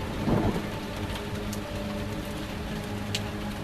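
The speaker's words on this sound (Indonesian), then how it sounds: "Rintik hujan masih membasahi jalanan Bandung" Steady night rain hisses continuously on the streets of Bandung, with a low rumbling undertone, a soft swell near the start and occasional faint drips on top.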